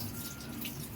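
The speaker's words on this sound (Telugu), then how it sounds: "నీట్గా వాటర్ వేసుకొని కడుక్కొని పెట్టుకోవాలి" Tap water runs steadily into a vessel while rice is washed for chicken biryani, a soft, continuous splashing rush with no voices.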